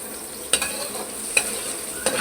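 Chicken and masala frying in hot oil for a restaurant-style chicken jalfrezi, with a steady sizzle broken by three sharp scrapes of a spoon stirring the pan, close and moderately loud with no talking.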